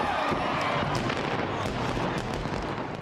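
A fireworks display crackles and pops continuously, with dense bursts and sharp reports spread across a noisy, sustained roar, steady in level throughout.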